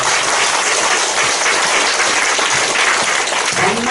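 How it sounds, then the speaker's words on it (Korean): A congregation applauds at a ceremony at Chungdong First Methodist Church marking publication of Syngman Rhee's complete works, a thick, continuous roar of clapping filling the hall at a steady, loud level. "한번 큰 박수로 서로 격려하시고 넘어가겠습니다"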